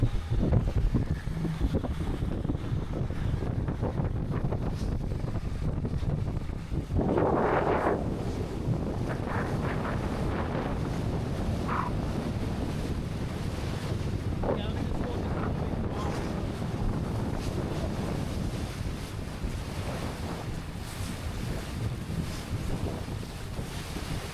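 Small boat riding over large ocean swells near Sombrero Reef, with heavy wind buffeting the microphone, the engine droning and water rushing and slapping continuously, loud and close, and voices briefly audible.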